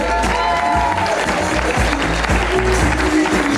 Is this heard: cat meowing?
no